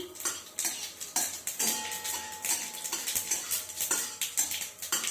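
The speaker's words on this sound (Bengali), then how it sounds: "তেল গরম হয়ে গেছে, অল্প করে একটু সর্ষে দিলাম।" Mustard seeds fry in hot oil in a kadai while pineapple chutney is being made, producing rapid, dense crackling and popping with metallic clinks of a utensil against the pan, close and continuous.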